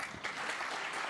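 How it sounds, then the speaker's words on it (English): Brief, quiet ripple of applause from the crowd at a snooker match between Ronnie O'Sullivan and James Cahill, soft and short. "Yes, and only a ripple of applause."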